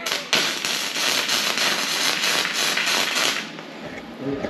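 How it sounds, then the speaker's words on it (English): Tack welding on a steel shed, a loud continuous crackling buzz with rapid pulsing bursts of sparks, close and sustained for several seconds before tapering off. "But at the moment now, we've got Brody welding the heck out of this shed."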